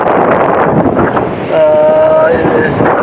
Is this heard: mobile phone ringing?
no